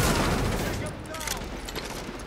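Gunfire in the video game The Division: a dense, loud volley of rapid shots at the start thins into scattered, quieter bursts, with a busy game soundscape underneath.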